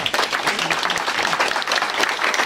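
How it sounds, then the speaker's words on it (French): An audience claps steadily after a round-table panel discussion, a dense, even wash of applause that carries without pause from start to finish. "Ouais, applaudissez-les."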